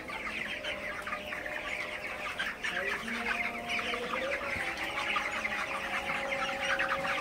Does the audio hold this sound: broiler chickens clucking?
yes